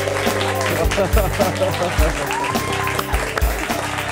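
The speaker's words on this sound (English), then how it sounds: "Let's give her a round of applause." Studio audience applause on a sitcom-style set, loud and continuous for about four seconds, with voices and music-like tones mixed in underneath.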